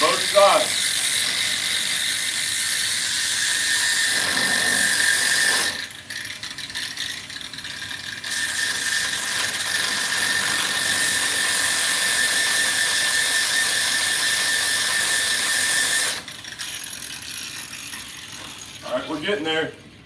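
A power tool's spinning disc grinds and rounds off a wood burl, a loud, steady abrasive whir with a bright ringing edge that runs in two long passes separated by a brief lull, then fades near the end.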